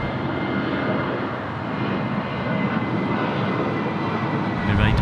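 A Qantas Boeing 737 departs Sydney Airport on a rainy night, its jet engines a continuous loud roar with a deep rumble that holds steady and swells slightly toward the end, heard from a spotting position.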